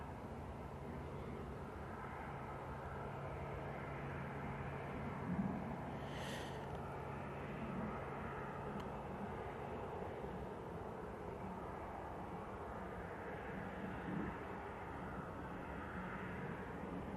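Airliner landing at Manchester Airport, a faint, distant, steady jet roar that holds evenly for the whole stretch with a slight swell near the touchdown, no voices.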